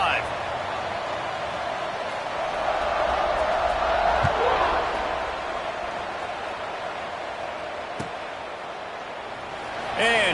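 A big football stadium crowd rumbles before kickoff, a wide distant roar that swells and fades, with a commentator talking over it and a few sharp knocks.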